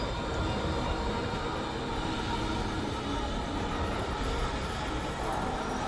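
A train in the video game Destiny 2: The Edge of Fate gives a steady, loud, continuous rumble and rolling roar, like rail cars moving on tracks, unbroken for about six seconds.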